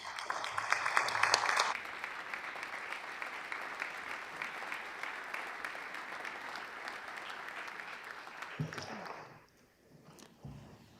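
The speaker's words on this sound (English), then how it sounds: "Can we please give them a round of applause online?" Applause from members filling a state House of Representatives chamber, a broad steady wash of clapping that holds for about nine seconds before tapering off, followed by a few faint scattered sounds in a quiet room.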